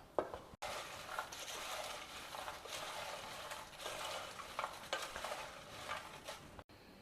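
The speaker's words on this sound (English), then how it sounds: "Now add these chips to it. And mix everything well together." Banana chips being mixed with salt in a bowl, a faint, continuous dry rustling and crunching of chips tossed together, close but quiet, with no talking.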